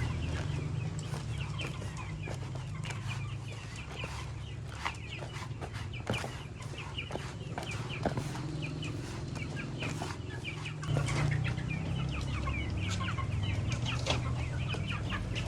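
Free-range village chickens clucking continuously outdoors, several birds close by with overlapping clucks and scratching sounds throughout.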